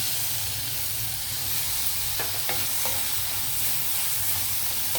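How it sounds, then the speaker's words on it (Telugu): Tomatoes and softened onions sauté in a pan for a raw banana and dried prawn curry, producing a continuous close hiss and sizzle with a few faint stirring clicks partway through, no talking. "ఈ టైంలో మనం టమాటో వేసేద్దాం."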